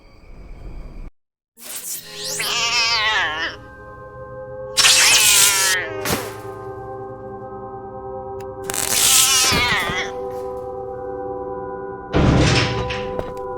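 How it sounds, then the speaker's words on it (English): A cat screeches repeatedly through a military base in the 2008 PC game eXperience 112, with harsh wavering yowls in several loud bursts over a constant droning ambient hum. "The poor cat. You can hear him screeching all over the base."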